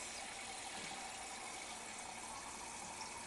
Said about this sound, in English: I'll throw some water in there.